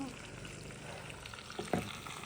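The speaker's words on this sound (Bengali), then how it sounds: "মাংস একটু নেড়ে দিই ভালো করে।" A spicy mutton curry loaded with red chillies sizzles steadily in a pan while a spoon stirs it, one sharper scrape near the end standing out, close and with no talking.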